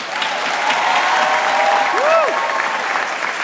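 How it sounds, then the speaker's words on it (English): An outdoor audience at the Course of the Force event in Balboa gives a sustained round of applause, dense and steady, with scattered cheers and whistles rising over the clapping. "give you guys another round of applause as well"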